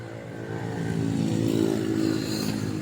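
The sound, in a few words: Toyota GLI engine running with misfire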